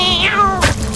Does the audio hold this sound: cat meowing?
yes